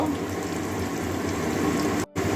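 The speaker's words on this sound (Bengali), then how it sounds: "পেঁয়াজটা একটু লাল লাল করে ভেজে নেব" Onions frying in a pan while being browned for a Bengali cabbage dish, a steady close hiss and crackle of oil that runs on without pause and drops out for a moment near the end.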